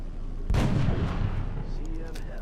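Sniper rifle shot in X-COM Enemy Within: one loud, sharp blast that rings out into a long, rumbling decay, with faint game sounds trailing behind it.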